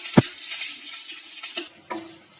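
Sliced onions sizzle in hot oil for dhaba-style white chicken, with a sharp pan knock at the start and a few scraping stirs over a soft, steady frying hiss.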